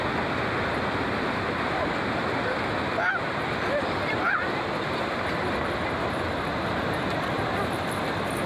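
Sea surf at Yarada Beach in Vizag, a steady loud roar of breaking waves filling the whole scene without pause, with no distinct voices.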